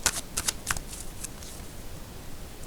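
Tarot cards being shuffled and drawn, a few quick soft riffles and flicks early on followed by a quieter papery rustle, close and faint with no talking.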